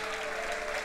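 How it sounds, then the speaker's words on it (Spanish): Loud, dense applause from a church congregation during a Spanish-language worship service, a steady unbroken roar of many hands clapping together with no talk over it. "Un fuerte aplauso que es para Él."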